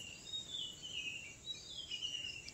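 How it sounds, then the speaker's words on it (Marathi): Small birds twittering in a quiet Konkan village, Adur: faint, high chirps and short trills drifting over a soft, still background, distant and gentle. "ऐकलं तर तुम्ही पक्ष्यांचे किलबिल आवाज"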